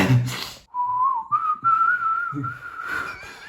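A person whistles a sustained, wavering tune alone, a thin steady tone gliding slightly up and down for about three seconds after a short burst of breath noise at the start.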